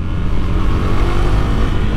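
A KTM RC390 sport motorcycle accelerates out of a corner, its single-cylinder engine a loud, steady low drone with a dense rumbling texture heard close up.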